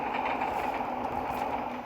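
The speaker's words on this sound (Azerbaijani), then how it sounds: "indi qatar yol kesməsini izləyirik" A train rolls past a level crossing on a road in Azerbaijan, a steady close rumble of wagons and wheels filling the scene with no break.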